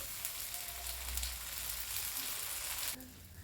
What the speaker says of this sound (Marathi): डोसा असा कोरडा झालेला असेल तेव्हा आजूबाजूला थोडेसे तेल टाकून घ्या. पुन्हा याला शिजवून घ्यायचं आहे.